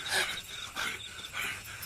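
A dog panting softly in quick, rhythmic breaths, faint and close, with no voices.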